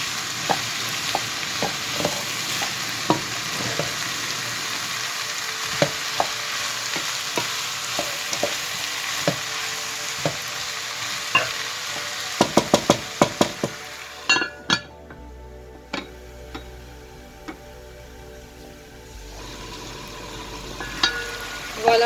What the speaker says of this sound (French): j'ai bien laissé rissoler mes légumes